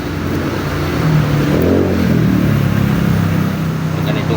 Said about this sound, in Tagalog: medyo maingay na yung masakyan dahil uwi na